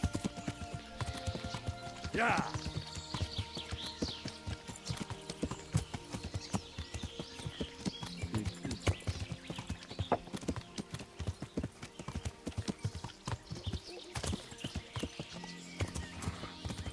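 Hooves clip-clop steadily on hard ground throughout in the video game Kingdom Come: Deliverance, with a brief horse whinny early on and a faint murmur of ambient sound beneath.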